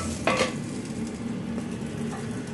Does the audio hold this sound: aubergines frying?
yes